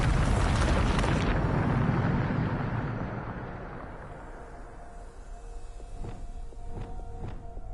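In Hogwarts Legacy, a Bombarda spell erupts as a loud, roaring blast that swells over the first second and slowly rumbles away into a long fading tail, followed by a few faint clanking footfalls.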